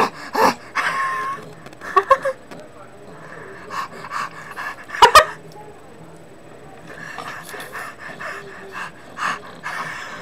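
A pug dog pants in short, irregular bursts of breathy puffs, close by, mixed with brief sharper snorts and soft background noise.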